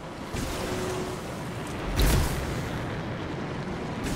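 Rushing water from waterfalls in the video game Anthem, a steady broadband roar like surf that fills the whole clip, with one brief louder swell midway.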